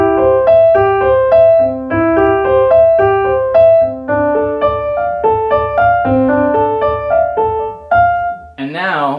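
A Kawai ES8 digital piano plays through KRK studio speakers, a steady run of melodic notes and chords over a sustained low bass, loud and close, ending with a brief warbling tone.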